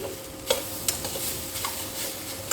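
Spices with cumin being stirred into vegetables in a frying pan for Bengali pachmeshali ghonto: a gentle continuous sizzle with a few scraping stirs of the spoon, close and clear, no talking.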